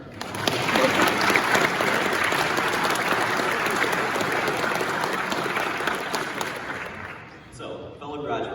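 Audience at a graduation ceremony breaks into sustained applause, dense clapping from a large crowd holding steady for several seconds before fading out near the end.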